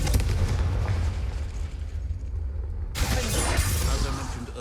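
The Confringo blasting spell goes off in Hogwarts Legacy, a loud burst with a crackling, shattering roar that rumbles on, then a second sharp blast flares near the end.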